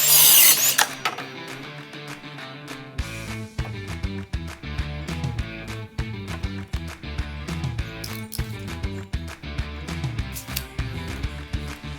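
A power saw cuts timber for a workbench. A loud initial whine gives way to a busy run of sharp, rhythmic cutting and clattering bursts, close by and with no talk.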